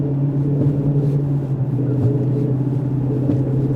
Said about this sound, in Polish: nie wiem czy to hamulce, czy jakieś łożysko, ale coś strasznie hałasuje.